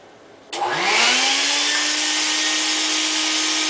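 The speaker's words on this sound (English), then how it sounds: "My vacuum cleaner is kind of loud, so you're not going to be able to hear me talk." A shop-style vacuum cleaner used for dustless drywall sanding switches on and spins up to a loud, steady whining roar that holds constant, close by, with no voices.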